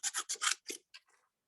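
Scissors cutting paper during a craft lesson, a quick series of six or seven crisp snipping strokes, close and distinct, tapering to a few faint rustles.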